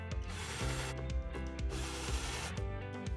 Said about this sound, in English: Use clamps or otherwise secure the runner while you pre-drill at these 4 hole locations.